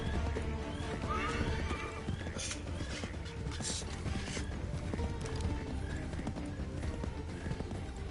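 Horses in the Assassin's Creed III video game whinny loudly while hooves clip-clop steadily, mixed with creaking and mechanical game sounds in a dense, continuous soundscape.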